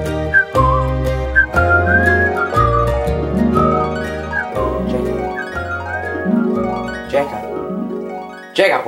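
Someone whistles a lilting tune with sliding pitches during a comedic musical number, carried over an instrumental accompaniment of steady chords.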